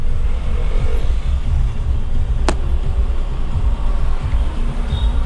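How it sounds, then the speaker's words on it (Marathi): Traffic on the Mumbai–Goa highway NH66 near Chiplun rumbles past as a steady low road noise, with vehicles approaching from the right and a brief sharp click partway through. "हे बघा, आता उजव्या हाताला ज्या गाड्या येत आहेत उजवीकडून"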